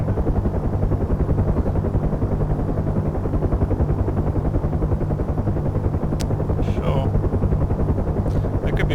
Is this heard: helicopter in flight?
yes